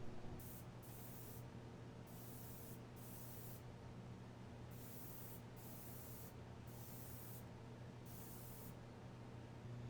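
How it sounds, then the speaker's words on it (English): Several short bursts of spray paint hiss onto the barrel of a replica EE3 blaster, each burst sharp and fairly quiet, separated by brief pauses over a steady low background hum. "So I'm going to try spraying on a part of the barrel real quick"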